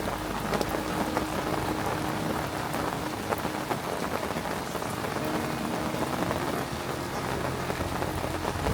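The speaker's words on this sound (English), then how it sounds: "Here comes the rain. Savage. Savage, savage weather." Heavy rain pours steadily in a downpour, a dense continuous hiss of drops drumming on surfaces, loud and unbroken throughout with no voices.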